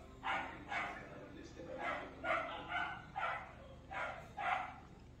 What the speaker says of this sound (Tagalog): Tumatahol yung mga doggies.